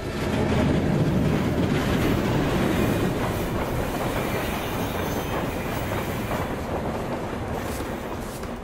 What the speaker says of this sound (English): Railroad crossing!